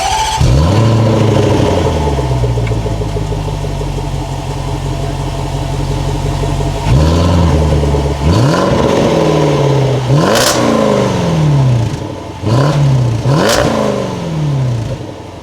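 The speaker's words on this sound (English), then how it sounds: "And boy, does this V8 sound good." The supercharged V8 of a 2020 Range Rover Sport revs loudly and close by. It climbs through several sharp throttle blips and then settles back to a rumbling idle between them, with no talk over it.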